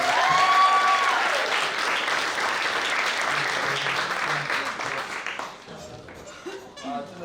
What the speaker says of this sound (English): Let's have an applause here.